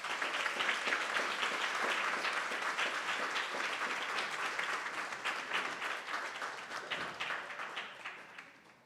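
Warm audience applause at a celebration event, many hands clapping in a loud, dense roar that holds steady before thinning slightly toward the end.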